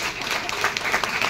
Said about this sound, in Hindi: अपने ग्रेट आदरणीय गुरुदेव मैं जोशी सर के लिए जोरदार ताली चाहता हूँ